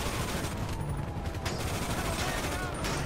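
Rapid gunfire from GTA 5 Online plays as a dense, continuous wash of overlapping shots and bursts, steady and fairly loud throughout with no clear individual gaps.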